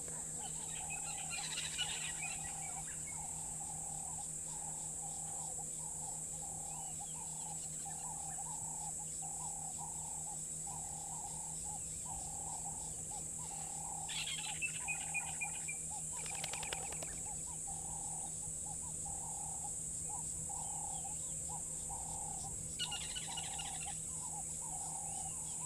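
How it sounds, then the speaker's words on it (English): Insects trill steadily in a natural outdoor setting, with a continuous high-pitched shrill that goes on throughout. Brief louder bursts of buzzing chirps come and go over it, and a low constant hum sits underneath. "You can just hear the cicadas as well."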